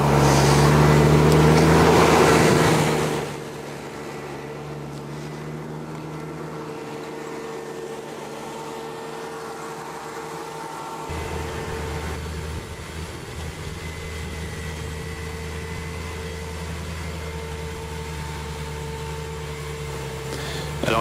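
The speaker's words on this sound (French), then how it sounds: "Alors la présentation du tracteur qui sème." A tractor with a front weight and a rotary harrow sows wheat in a field, its engine a steady droning hum, loud and close at first, then dropping back to a quieter continuous rumble.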